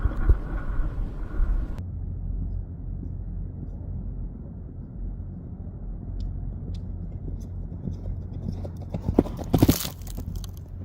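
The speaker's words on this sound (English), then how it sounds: "Now his stride is opened up and you can hear his 2-beat canter." A horse in an opened-up two-beat canter, its hoofbeats muffled and close beneath a constant wind-like rumble, with a brief louder scuffle near the end.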